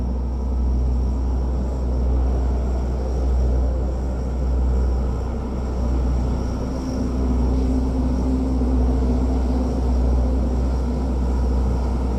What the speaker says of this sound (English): Russian Air Force jet flew over several key landmarks here in the Washington area at low altitude